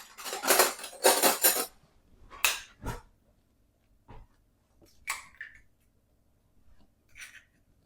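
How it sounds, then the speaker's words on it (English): Eggs being cracked into a bowl for a boiled fruit cake make sharp clinks and taps against the rim, a quick run of knocks at first, then scattered single clicks in quiet. "But I shall break the eggs in here first, make sure they're all okay."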